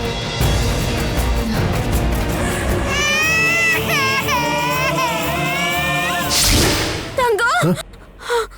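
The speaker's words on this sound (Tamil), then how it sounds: "அப்பா என் குழந்தை, அவ அழுறத நான் கேட்டேன்ப்பா" An infant cries in a Tamil TV drama scene, a wavering wail rising over dense dramatic music, followed by sharp whooshing accents.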